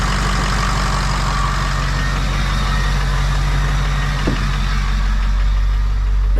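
A diesel truck engine idles steadily just after a jump start with the glow plugs still on, a loud, deep, continuous rumble with a brief knock partway through and no talking.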